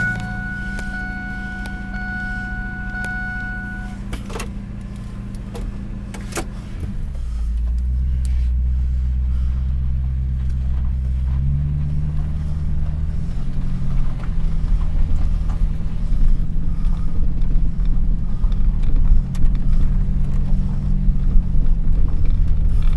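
1999 Ford F250 truck with a 5.4 engine running at a raised idle, a steady low rumbling drone with a few clicks and shifts in pitch partway through, continuous and moderately loud with no talking.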